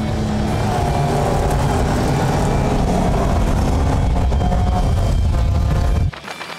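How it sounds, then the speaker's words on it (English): Race cars including a Ford Capri Piranha finishing a race, with a loud, steady engine roar close by that holds for about six seconds before cutting off abruptly. "it's Mike Schmidt who takes the checkered flag in the Frankie's Ford Capri Piranha"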